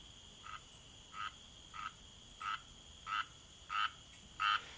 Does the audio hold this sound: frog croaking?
yes